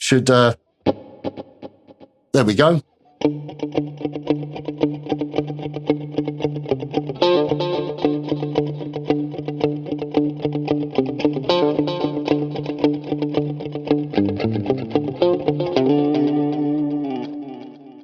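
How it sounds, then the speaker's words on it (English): Electric guitar notes drenched in swirling studio flanger, with rhythmic repeating delay echoes and a wide reverb tail, preceded by a few short plucked tests. "We got flanger, studio flanger, a rhythmic delay set to do different delay times, and a reverb."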